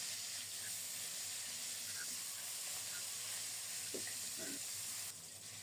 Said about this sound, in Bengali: মাছ ভাজা হতে থাক